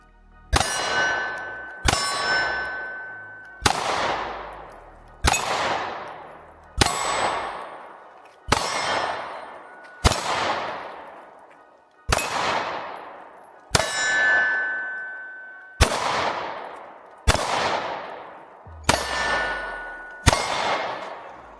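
A Smith & Wesson Shield X pistol fires at steel targets, about a dozen sharp metallic clangs spaced roughly every one to two seconds, each ringing out and fading before the next.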